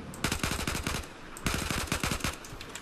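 Automatic weapon fire in Battlefield 4, shot in short controlled bursts: two loud, rapid strings of closely spaced shots separated by a brief pause, with no voices.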